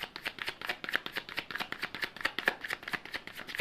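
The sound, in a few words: drawing a tarot card from the deck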